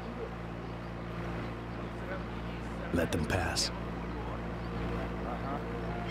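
Motorboat engine in the video game Sniper Ghost Warrior 2, a steady low droning hum that holds throughout, with a brief spoken line partway through.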